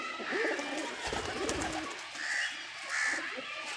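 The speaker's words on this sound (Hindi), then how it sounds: "तो ये टैडी कबूतर देखो दोस्तों।" Pigeons cooing while held in hand, several soft rolling coos repeating at intervals over rustling and handling noise, close by.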